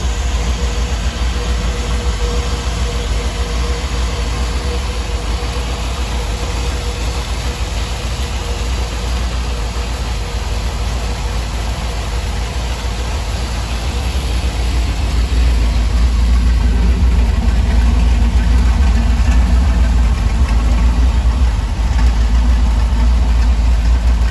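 A Dodge Ramcharger's 440 V8 idles steadily at operating temperature, its exhaust giving a continuous low rumble close by, with the level rising slightly partway through and no one talking.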